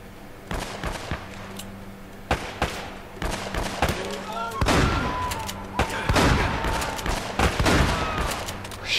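Shotgun and other gunfire in the video game Uncharted: Drake's Fortune, loud irregular bursts of shots and booming impacts during a firefight, with voices talking in between.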